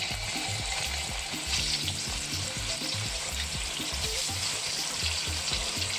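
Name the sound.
chicken searing in hot oil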